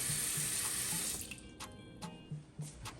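Tap water runs into a cooking pot while making ackee and saltfish, a loud steady rushing stream that cuts off partway through, followed by a few faint clinks and drips.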